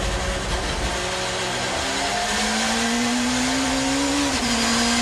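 Rear-wheel drive BMW touring car at speed through Sear corner in 1990s touring car racing, a loud sustained engine note that climbs steadily in pitch as it accelerates, with a brief dip near the end, no talking.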